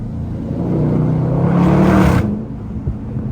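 Widebody Dodge Charger Scat Pack driving a mountain road, its engine droning loudly and swelling as it accelerates, then easing off near the end, with steady road and wind noise around it.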